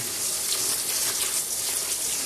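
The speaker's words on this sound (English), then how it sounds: "So literally all we do is we pop the water on" Tap water runs steadily to rinse dosa ingredients, a continuous broadband gush and splash that stays loud and even throughout, with no voices.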